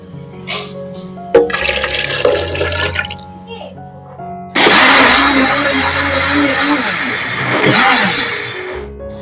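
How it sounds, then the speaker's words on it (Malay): A kitchen blender grinds steamed sweet potato with two cups of water for an eggless caramel pudding. It starts in short bursts, then roars steadily and loudly for several seconds, with a wet, churning tone and a few uneven surges. "Langkah selanjutnya saya akan kisar keledek tersebut berserta dengan 2 cawan air."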